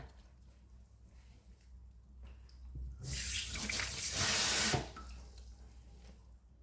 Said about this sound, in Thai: ทีนี้ก็จะล้างน้ำออกค่ะ ล้างน้ำแล้วก็ จนน้ำใสอะค่ะ